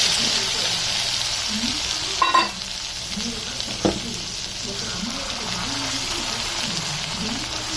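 Stuffed bitter gourd pieces fry in a generous amount of oil with turmeric, making a loud, continuous sizzle with a couple of brief utensil scrapes partway through.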